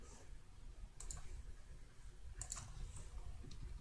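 A computer mouse gives a few faint, sharp clicks spaced unevenly over a quiet, low background hum.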